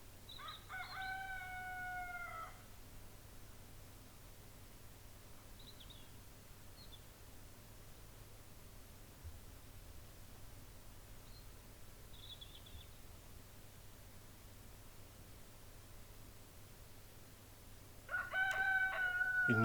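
Roosters crowing in a French garden with hens present: one clear crow at the start and another near the end, with faint distant calls between them over a steady low background hum.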